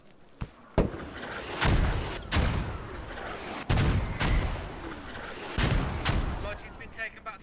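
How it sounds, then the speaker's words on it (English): Mortars go off in a tactical shooter match, a string of heavy booming blasts landing every second or so, loud and fairly close, with a voice talking now and then between them. "Mortars going off."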